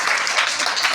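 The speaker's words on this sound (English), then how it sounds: "Clapping." A classroom of children breaks into a short round of steady group clapping after a correct spelling answer at a spelling competition.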